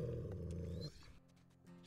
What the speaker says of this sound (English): He's gonna eat the rabbit and growl at her